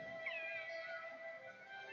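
A cat meows in Kingdom Hearts II Final Mix, a single drawn-out, clear game sound effect heard alone without talk.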